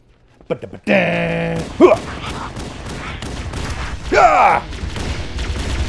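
Sharp pistol shots from the first Halo game fire in a quick irregular series, mixed with game effects and voices.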